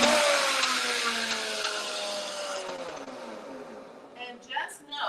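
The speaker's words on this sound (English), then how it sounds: "We are going to blend them down." A blender blending chickpeas for homemade hummus, a loud whirring motor whose pitch slides down as it labours, then fades and stutters with uneven bursts near the end.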